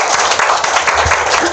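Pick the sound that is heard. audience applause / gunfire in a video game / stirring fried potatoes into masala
audience applause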